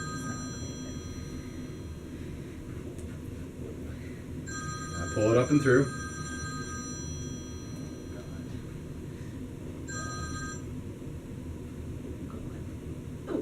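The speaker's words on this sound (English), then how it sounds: "Perfect time for the phone to be ringing, right, folks?" A telephone bell rings in a couple of brief bursts somewhere in the room, fairly faint beneath a steady background hiss, while a person talks nearby.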